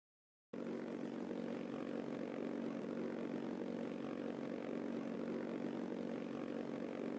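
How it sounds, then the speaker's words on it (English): Aircraft engine in a naval combat video game drones at a steady, loud, even level after a brief silence at the start, a continuous low propeller-like hum with no talk over it. "Will Cernic park his aircraft on top of one of the red team's airships?"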